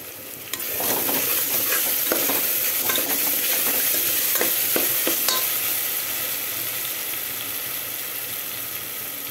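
Freshly pounded ginger frying in oil for a Telugu mutton curry, a loud continuous sizzle heard up close with repeated scraping and clinking of a stirring spoon against the pan.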